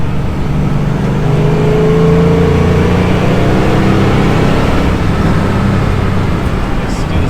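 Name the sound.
1968 Ford Mustang GT 428 Cobra Jet engine accelerating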